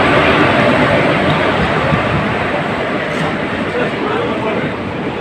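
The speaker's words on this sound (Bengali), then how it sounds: "ট্রেনে উঠে গেছি" Steady, loud rumble of a train heard from on board or right beside it, a dense broadband roar filling the whole stretch with little change, and voices mixed faintly into the noise.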